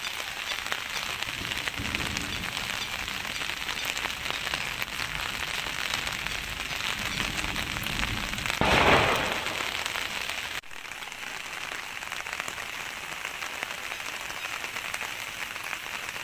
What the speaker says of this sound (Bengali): এখনও বৃষ্টি হয়ে যাচ্ছে, মানে 2টা থেকে যে বৃষ্টি শুরু হয়েছে দেখুন